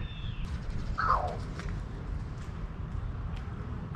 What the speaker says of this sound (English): I've never heard that kind of a bird before.